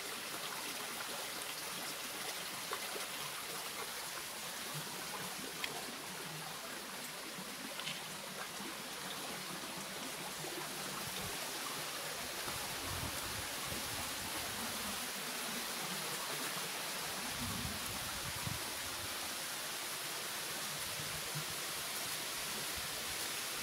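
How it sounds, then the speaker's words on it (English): A steady, broadband rush of flowing water fills the whole stretch, continuous and even, like a river heard from nearby, on the north coast of Northern Ireland. "Hear a river?"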